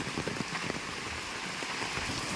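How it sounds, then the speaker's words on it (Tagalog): Heavy rain pours steadily, a dense continuous hiss with scattered drops pattering on nearby surfaces, loud and close with no voices. "Grabe po lakas ng ulan."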